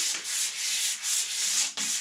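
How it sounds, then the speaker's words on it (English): 220-grit sandpaper rubs back and forth by hand in a steady rhythm of about six strokes, close and crisp. "Now just giving it a light hand sanding with some 220 grit paper."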